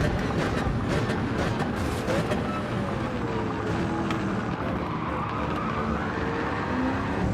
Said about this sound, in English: Big old bunch of cars through there.